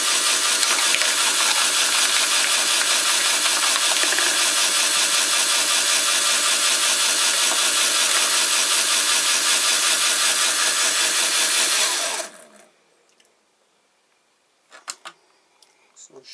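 A shredder grinds a 3D printed plastic pulley with a loud, dense, continuous grinding roar for about twelve seconds, then stops, leaving a few faint clicks and knocks.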